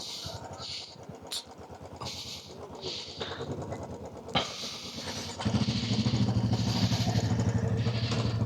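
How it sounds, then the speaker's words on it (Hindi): A Royal Enfield Bullet 350 motorcycle starts up and rides, its low engine thump turning into a steady, loud drone from about five seconds in after quieter clatter and handling noise. "अभी हम चलाएंगे द ओजी बुलेट।"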